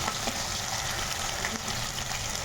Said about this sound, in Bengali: মাছ ভাজছি আর খুব তেল গলেছে